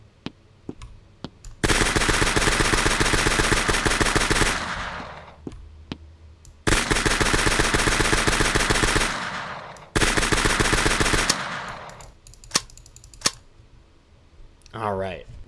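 Machine gun sound effects in a zombie video game fire in three long sustained bursts of rapid, loud, evenly spaced shots, separated by gaps with single clicks, with a brief fluttering sound at the end.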